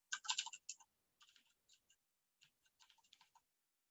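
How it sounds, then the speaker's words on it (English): Quick keystrokes on a standard US computer keyboard, typed in short bursts with pauses between them, close and fairly quiet, with no talking. "I'm going to type FreeBSD Nerdearla"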